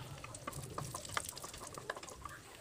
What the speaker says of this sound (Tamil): நம்ம வச்சுருக்க அந்த முந்திரி திராட்சையை வந்து இப்போ இதை வறுத்துருவோம்